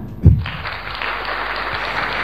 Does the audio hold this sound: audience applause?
yes